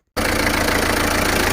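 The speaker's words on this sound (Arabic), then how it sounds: "راني نوضت لك الموتور" A car engine, with a reported clutch noise, catches after a moment of silence and settles into a steady, loud, close idle with an even rhythmic throb.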